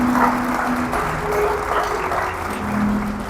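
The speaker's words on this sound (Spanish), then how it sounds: "Denle un aplauso al Señor." A church congregation claps together, a steady, dense roll of applause that fills the room evenly for a few seconds, with a faint voice or tone underneath.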